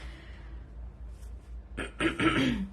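A quiet throat clearing, then a couple of short coughs close to the microphone, with faint background hum.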